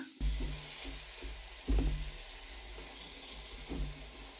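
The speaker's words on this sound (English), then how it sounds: "I'm going to slide in the onions. And then these are going to cook together." Ground beef and onions sizzle together in a pot, a steady frying hiss with a few louder stirring scrapes at intervals, close and without talk.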